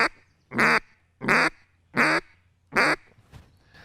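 A hunter's duck call imitating a hen gives four loud, evenly spaced single quacks about half a second apart, close and clear, with a brief soft bleat at the end.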